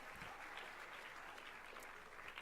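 A crowd applauds steadily, a dense wash of clapping heard from a distance at low volume.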